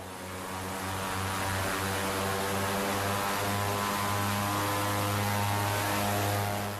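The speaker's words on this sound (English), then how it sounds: "We've hitched a ride on a cassiterite plane going back to Goma" An old Russian cargo plane with no seats drones steadily in flight, heard from inside the cabin as a loud, unbroken low engine hum that swells slightly at the start and holds constant.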